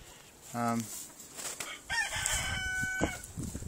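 Delaware chickens in a coop, with a close clucking call and then a rooster crowing loudly over steady background fowl noise.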